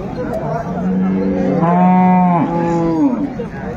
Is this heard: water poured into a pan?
no